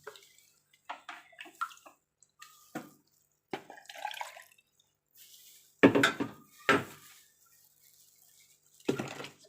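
Liquid soap mixture is stirred in a container: short, irregular bursts of wet sloshing and swishing, separated by brief pauses, close up with no talk.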